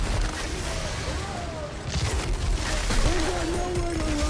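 Weapons fire continuously in the sci-fi shooter Outriders, a dense roar of gunfire and booms with mechanical whines and sweeping tones layered over it, loud and sustained throughout a boss fight.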